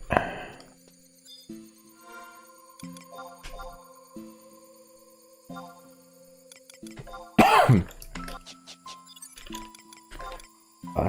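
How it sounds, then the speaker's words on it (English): Repeated coughs and throat clearing from a player during a Final Fantasy XI session, several separate bursts close to the microphone over quiet game music with chimes. "This is gonna be a pain in the arse to edit. Yeah, how much I am coughing."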